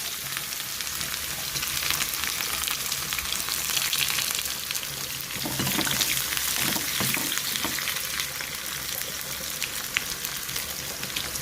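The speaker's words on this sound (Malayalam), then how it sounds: "കടുക് പൊട്ടി വരുമ്പോൾ നമുക്ക് ചെറിയ ഉള്ളി ചേർത്ത് കൊടുക്കാം." Steady, dense sizzling of shallots frying in hot oil with popping mustard seeds for chicken curry, with occasional crackles and pops and some stirring, continuous and close.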